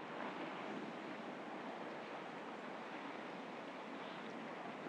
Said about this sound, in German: Bei mir rauscht gerade das Meer im Hintergrund, der Wind weht.